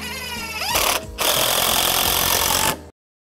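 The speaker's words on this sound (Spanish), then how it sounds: "Este es un tornillo de 2 pulgadas, solo estoy atornillando un cuarto de pulgada del material" A power driver whirs in two close, loud bursts as it sinks a 2-inch screw into deck railing, with a brief pause between the bursts before it stops abruptly.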